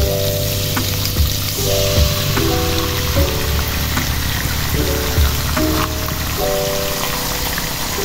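Eggs frying in a pan with ground spice paste for seblak with noodles, a loud, steady crackling sizzle like rain on a surface, with a few utensil clinks and stirring sounds and no voices.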